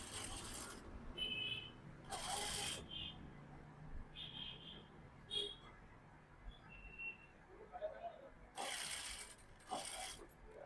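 A sewing machine stitches a half-inch margin on a dress, joining the shoulder with lining side in. It runs in several short, close mechanical bursts separated by quieter gaps.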